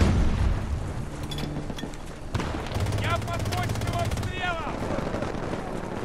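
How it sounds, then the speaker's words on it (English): Rapid bursts of gunfire and booming explosions from the video game Battlefield 2042 roll on continuously, dense and mid-distance, with a voice talking over the battle noise. "What is all that shooting?"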